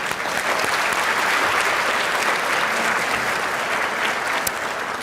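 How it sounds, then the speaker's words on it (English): Dinner audience in a function centre applauding, a dense, loud, sustained round of clapping that holds steady from start to finish. "So round of applause."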